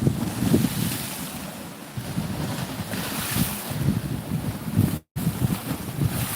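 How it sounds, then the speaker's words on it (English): Seawater surges and splashes against a seawall along a seaside promenade, a continuous broadband rush heavy with wind buffeting the microphone and a brief dropout near the end; no voices. "Get some good splashes along this seawall."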